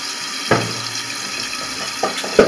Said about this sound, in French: on ouvre son robinet, hein, le petit robinet qu'il y a là, on l'ouvre